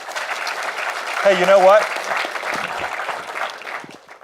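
A university audience claps in a steady wash of many hands, a speaker's voice cutting in briefly over it midway, with a few louder claps near the end.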